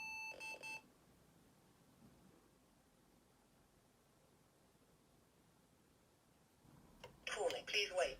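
Phone keypad beeps while call-out numbers are entered for an intercom, with a short burst of tones at the start and another cluster at the end, separated by a long quiet stretch.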